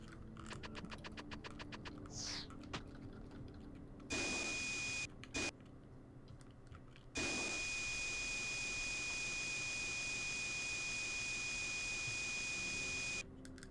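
Urshin running in the game Breath of Fire IV gives a steady vacuum-like whir that cuts in and out in long stretches, with short clicking bursts at the start.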